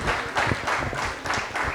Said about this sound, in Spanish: Si es un aplauso para Él, que se escuche del cielo.